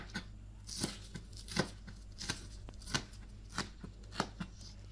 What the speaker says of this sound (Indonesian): 3 batang daun bawang dipotong besar-besar.